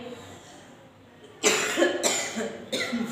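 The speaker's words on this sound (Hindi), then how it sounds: "खांसी आ गई बच्चों" Quiet room tone, then three sharp, loud coughs in quick succession, close by.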